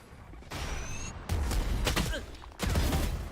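Gunfire in a video game crackles in rapid, loud bursts, stopping briefly around the middle before resuming with heavy, booming impacts.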